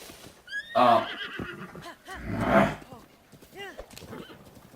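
Epona, the horse in the video game Zelda Breath of the Wild, whinnies loudly and repeatedly with a clip-clop of hooves mixed in, near and clear against the game's background.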